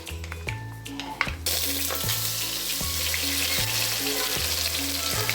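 Ground masala paste for a fish curry hits a hot pan with a sudden, loud burst of frying, then keeps up a dense, steady sizzle over a quiet, rhythmic musical backing.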